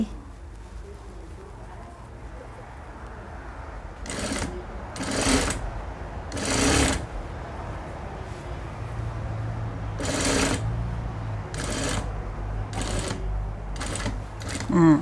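A sewing machine stitching single-fold binding around an armhole, running in several short bursts separated by pauses, close and fairly loud over a quiet room.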